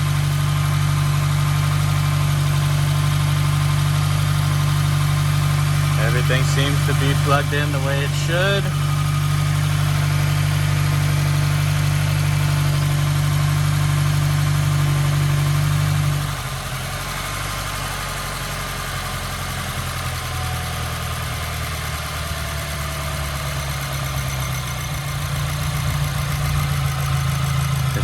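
A Subaru WRX fitted with a GrimSpeed V2 bypass valve idles steadily and close by, its engine hum continuous throughout while someone talks briefly over it near the start.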